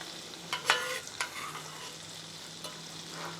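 A ribeye steak sizzles in a pan of garlic butter and thyme while being basted. The frying is faint and close, with a few soft spoon scrapes and spatters and no voices.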